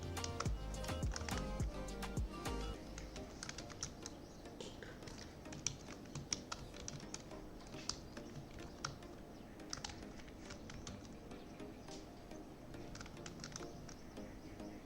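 Rapid, uneven keystrokes as someone types a password on a computer keyboard, steady clicking near the microphone with little pause, alone without talk.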